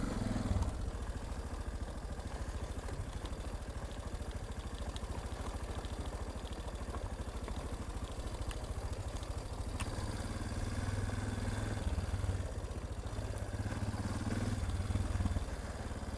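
Suzuki DR650 dual-sport motorcycle with a warm engine idles steadily on a trail, a low, even thumping chug with light mechanical clatter, fairly quiet and without talk.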